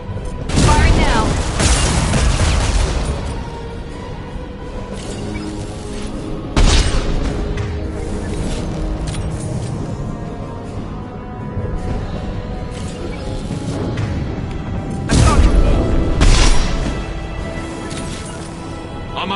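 Mass Effect 2 combat with weapons firing and explosions: heavy booms and bursts of gunfire come in repeated clusters, with steady battle noise between them and voices talking over the action.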